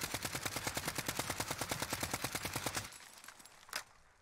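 An AN-94 rifle in the Modern Warfare video game fires a sustained fully automatic burst during a recoil test, a rapid even run of sharp shots that stops abruptly, followed by a lone clank and quiet.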